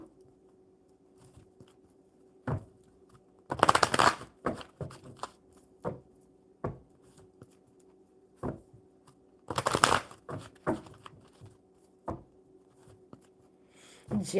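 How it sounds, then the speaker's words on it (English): Oracle cards are shuffled in two long riffling bursts, with scattered single taps and soft card handling between them at close range on a quiet live stream. "Let's shuffle the Oracle and see what they have for you."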